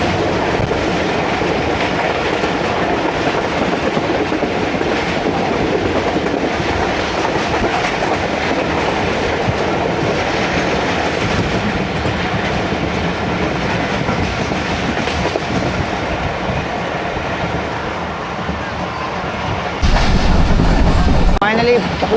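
Pakistan's Jafar Express passenger train, ZC20 locomotive leading, cruises toward Lahore, a loud, continuous rumble of wheels and carriages with steady clickety-clack rhythm throughout, swelling louder near the end.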